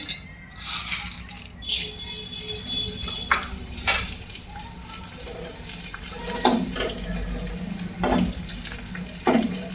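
Pieces of edible gum (gond) frying in hot oil in a kitchen pan, a continuous sizzle broken by sharp rattling clicks and scraping as the pieces are stirred and separated, close up and moderately loud.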